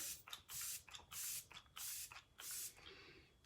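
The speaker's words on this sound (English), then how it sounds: "so we're going to finish this with a little setting spray" Several quick hissing bursts of makeup setting spray misted onto a face, about five short pumps in a steady rhythm, close and fairly quiet.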